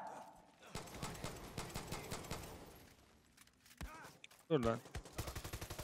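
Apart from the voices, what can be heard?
gunfire emptying a magazine in Far Cry 6 video game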